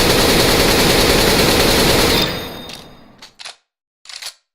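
Automatic rifle spray in Counter-Strike: Global Offensive, a dense, loud burst of rapid gunfire lasting about two seconds, then cut off and followed by a few short, sharp clicks or shots.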